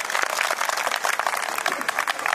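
An audience at a welcoming ceremony for a former soldier held by an Air Force veterans' association in Haryana claps loudly, a thick continuous burst of many hands close by with no talking.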